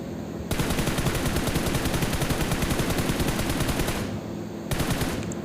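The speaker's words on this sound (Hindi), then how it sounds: "तो मैं उसका दोनों टायर फोड़ देता हूँ।" Gunfire in PUBG Mobile aimed at a car's tyres: a long, rapid, loud burst of automatic shots lasting several seconds, then a short pause and a fresh burst starting.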